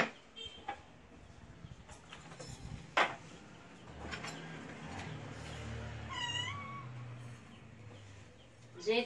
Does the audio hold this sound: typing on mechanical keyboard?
no